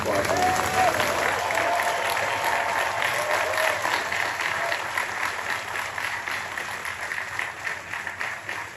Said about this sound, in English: big standing ovation for the president